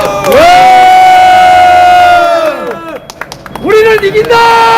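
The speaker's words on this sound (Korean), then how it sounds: "모두 함성 한번 질러요." A loud rally crowd shouts and cheers in a long sustained roar, dropping briefly before rising again into a second burst of voices.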